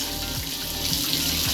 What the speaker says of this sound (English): I'm letting fresh water into the tank.